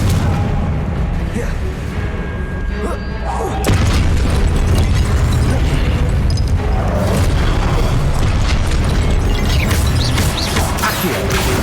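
Fiery spell explosions from Confringo in the Hogwarts Legacy video game on PS5 boom and rumble continuously, with a sharper loud burst marking a jump in intensity partway through and battle noise churning throughout.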